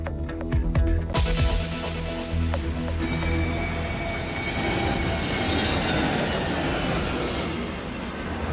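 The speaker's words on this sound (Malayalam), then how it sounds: "ചുഴലിക്കാറ്റിനിടെ വിമാനത്തിന്റെ ലാൻഡിംഗ് പാളി. വിമാനം ഇടത്തോട്ട് ചെരിഞ്ഞു." An airliner attempts a landing in cyclone winds at Chennai airport: a loud, continuous roar of aircraft engines and rushing wind, with a brief sharp burst early on settling into a steady broadband rumble.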